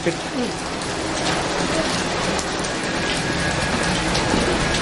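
Steady rain pours down, a dense, even hiss of drops on surfaces that continues without a break.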